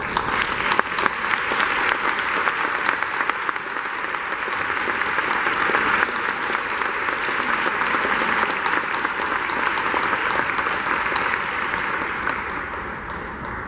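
Gathering at a Jacksonville State University storm anniversary event gives volunteers and helping organizations a long, steady round of applause, a dense sustained wash of many hands clapping at even loudness for about fourteen seconds.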